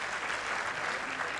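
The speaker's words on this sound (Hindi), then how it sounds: "जोरदार तालियां बजाइए" Loud, dense applause from the audience at an Urdu poetry mushaira in Indore, steady and continuous throughout with no pauses.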